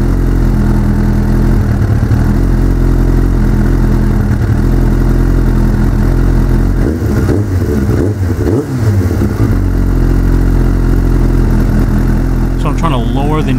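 A Suzuki motorcycle engine runs steadily during a carburetor synchronization, with a remote fuel bottle and a carb synchronizer hooked up, giving a continuous loud idle with slight fluctuations throughout.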